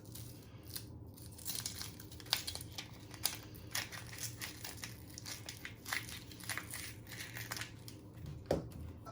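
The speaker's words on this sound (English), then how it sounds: "you want to peel 2 layers of the skin." Dry onion skin is peeled away in a quiet, close series of crinkly, crackling tears and rustles, irregular and alone with no voices.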